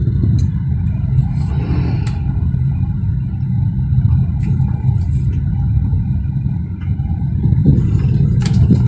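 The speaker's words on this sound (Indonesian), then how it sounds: "jika kita menambah kecepatan dari gigi 2, saya masukkan" A car accelerating after a shift from second into third gear, heard from the cabin as a loud, steady engine rumble and road noise that builds slightly near the end, with no talking.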